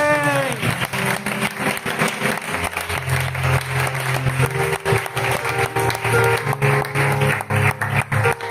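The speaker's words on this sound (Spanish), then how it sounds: "Den ese aplauso a Jesús" A church congregation applauds steadily throughout, a dense sustained wash of clapping with music or a held tone running beneath it and no clear speech.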